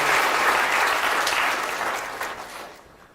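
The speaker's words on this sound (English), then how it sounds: "Let me have a big round of applause." Audience applause in a lecture hall following an explosive lithium chemistry demonstration, a dense wash of clapping that starts loud and tapers off over about three seconds.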